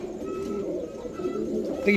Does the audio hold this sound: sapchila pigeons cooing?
yes